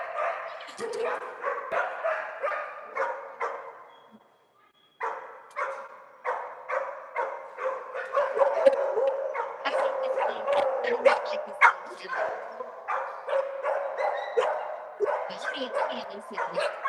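Several puppies yelp and bark in rapid, overlapping bursts throughout a busy puppy room, with a brief lull partway through before the chorus resumes, close and fairly loud, with people talking at times.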